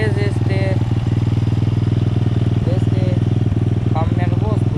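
A 125cc Cross Explorer motorcycle engine runs close and loud in a steady rapid thrum, with a voice talking over it and brief higher whines as the throttle is blipped.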